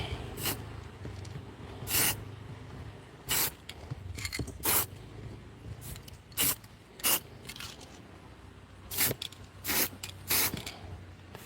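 Short hissing bursts of a yellow spray paint can painting a drone, roughly a dozen of them at uneven intervals, each a second or less, over quiet room background.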